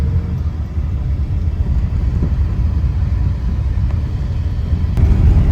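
A TNSTC bus overtaking on the road produces a continuous low engine rumble heard from inside a moving bus, steady and fairly loud with a slight swell near the end.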